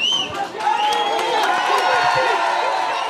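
A crowd cheers an election victory for the mayor of Saint-Josse, with a steady loud roar, shouts and whoops, and scattered clapping throughout, with voices mixed in.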